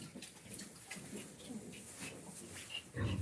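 A pig in a barn at night, where piglets are kept under a heat lamp, gives soft, scattered low grunts. The sounds are faint against a hissy background, with a louder, closer grunt at the very end.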